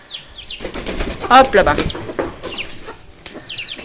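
A Pekin bantam hen raising Brahma chicks clucks softly near the microphone amid rustling and a flutter of wings, with a person speaking briefly over the sounds.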